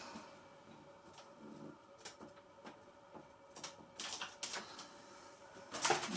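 Small clicks and ratcheting taps from tightening a part on a 2.1 m Carbon Z Cessna 150T model aircraft, scattered through a quiet room, with a sharper burst of close clicks near the end.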